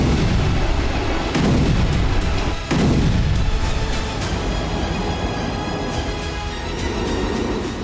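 Drone strikes on Russian energy sites set off a string of heavy explosions: several deep, broadband booms in quick succession over a constant roaring rumble, with no voices.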